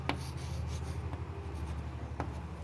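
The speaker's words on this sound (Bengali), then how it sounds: "এখানে পোয়েম কথাটি লিখে রাখছি" Chalk or marker scratches across a classroom board during an English grammar lesson. It gives steady rubbing strokes punctuated by a few sharp taps, close and moderately loud with no talking over it.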